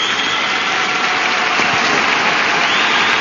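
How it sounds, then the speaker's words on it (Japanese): Broad, steady applause from a large stadium crowd at the 2008 Asia Series baseball final, Seibu Lions versus Uni-President, a dense continuous wash of clapping held at full loudness throughout without any talk. "場内からは大きな拍手が沸き起こりました。"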